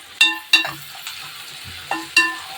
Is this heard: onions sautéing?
yes